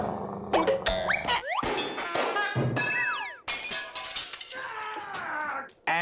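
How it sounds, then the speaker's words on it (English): A ball smashes a window in a children's cartoon game show, with a burst of glass shattering amid a busy run of cartoon effects: dings, whistles, slides, and a sharp crash with bright tinkling debris. "the ball bounces and breaks Old Man Johnson's window."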